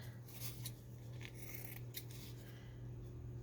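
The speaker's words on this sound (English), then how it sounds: "I'm just going to trim this one down" Scissors trimming a fabric journal card for a junk journal: a few soft, close snips over a steady low background hum, with no voices.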